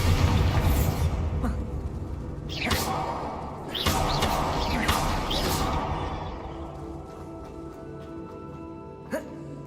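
Bombarda blasting spells set off a series of thudding explosions and whooshes in the Hogwarts Legacy video game. The booms come in bursts over the first seconds, then fade to quieter rumbling and one last small hit.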